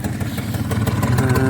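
A 2002 Peugeot Looxor 50cc moped with an air-cooled engine ticks over at idle, a steady, close, low mechanical putter with a slight rise in level toward the end and no talk over it.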